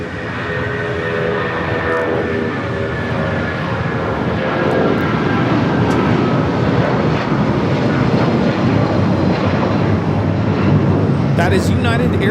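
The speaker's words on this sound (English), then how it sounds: "That is United Airlines 1591 taking off to Houston Intercontinental on the 757-200" A United Airlines Boeing 757-200 takes off at LAX, its engines building into a loud, sustained roar that swells toward the end, with people talking nearby over the noise.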